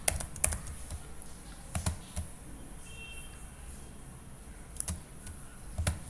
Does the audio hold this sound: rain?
no